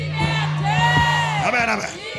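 A crowd shouts together in loud, close unison, many raised voices swelling into a sustained cry and then breaking off into scattered yells.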